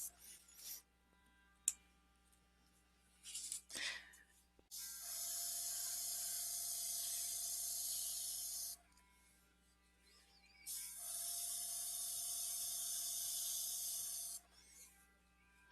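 An eBrush airbrush spraying ink onto paper, two steady soft hissing bursts of several seconds each with a faint whine, separated by a pause with small clicks of handling.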